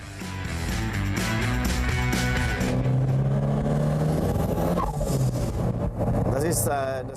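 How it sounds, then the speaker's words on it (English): A loud turbocharged Cosworth engine revs and shifts gears, with a whistling pop-off valve release between shifts over continuous engine roar. "The whistling sound the car makes while changing gears is typical of the turbocharged Cosworth."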